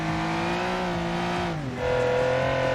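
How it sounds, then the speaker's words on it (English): Car engine in a racing video game revving hard and steadily, with a brief dip as it shifts and then climbs again, loud and close throughout. "I do like the sound of the engine though."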